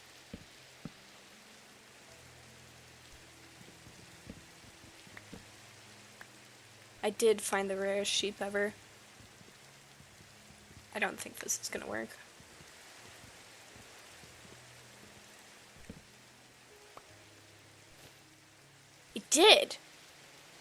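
Steady soft rainfall in Minecraft runs as a faint hiss through the whole stretch, while someone talks in short bursts over it.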